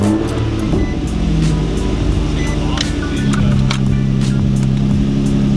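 A Nissan G35 fitted with a big bore throttle body starts up and settles into a loud, close idle with a steady rumbling tone, engine revving briefly as it catches, with people talking nearby.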